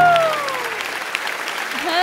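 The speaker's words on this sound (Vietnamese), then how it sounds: "Xin một tràng pháo tay nồng nhiệt cho em trai thưa quý vị." A studio audience claps for a 62-year-old contestant on a Vietnamese talent show, a short burst of applause blended with lingering instrumental tones and a few voices.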